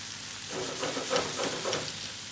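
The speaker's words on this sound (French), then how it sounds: "Et je vais laisser cuire tout ça. Jusqu'à que le tofu soit doré." Tofu, leek and spring onion fry together in a pan with a soft, quiet sizzle and a few gentle stirring scrapes. No voices are heard.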